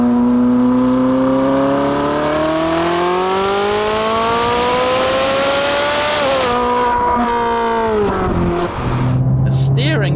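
A Ferrari 458 Italia V8 engine in Race mode, exhaust valve opening early, revs and climbs through the gears on a road drive, its exhaust note rising in pitch, dipping at a shift, then climbing again. It is loud and close, with someone talking over it.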